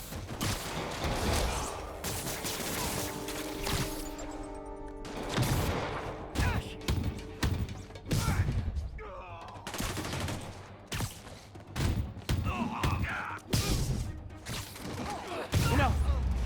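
Gunfire in the Marvel's Spider-Man video game rings out in loud, rapid bursts and scattered single shots, with thuds and impacts mixed in and voices heard between volleys.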